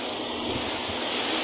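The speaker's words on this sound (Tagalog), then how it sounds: "Medyo hindi malakas ngayon yung hampas ng alon." Mild waves wash onto the shore beside a beach hut at New Washington, Aklan, producing a steady, broad rushing roar with some wind noise, constant and close throughout.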